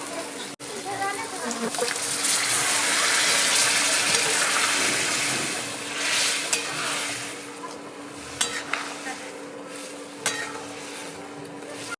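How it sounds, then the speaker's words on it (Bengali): Water poured into a pan of rajma cooked down with spice masala, a broad hissing, sizzling wash with stirring and scraping that gradually settles, with a few sharp clinks near the end. "আমি হালকা নাড়াচাড়া দিয়ে জল দিয়ে দেবো পরিমাণ মতো"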